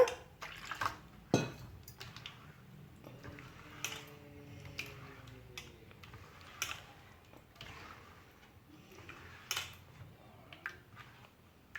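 Water is poured into ragi flour and stirred by hand, giving soft, quiet splashes and a scattered series of light clinks and taps against the vessel, with no one speaking.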